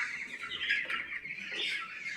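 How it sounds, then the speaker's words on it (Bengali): A flock of 26-day-old farm chickens, a continuous mass of overlapping clucks and chirps at moderate loudness with no single bird standing out. "আমার এই মুরগিগুলো আজ 26 দিন বয়স"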